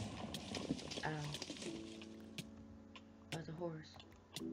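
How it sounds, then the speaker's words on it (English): A Minecraft horse gives a faint neigh and clip-clopping hoof sounds amid sharp game effects, with a player talking quietly over it. "That's a horse."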